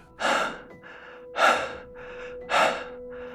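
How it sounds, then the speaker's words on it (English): Slow, shallow human breathing, three soft airy breaths at regular intervals, close and quiet over a low steady hum. "Slow, shallow, human breathing."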